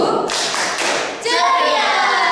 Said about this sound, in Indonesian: Oke, tepuk biar minggu ceria.